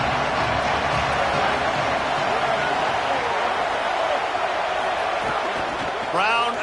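Stadium crowd in the College Football 27 video game roaring in the final two minutes after a timeout, a broad sustained cheer filling the background under a play-by-play commentator's voice.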